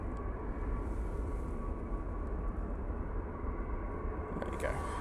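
An ATR turboprop airliner arriving from Guernsey drones steadily and loudly, a continuous engine rumble with a faint tonal hum that holds throughout, with no break.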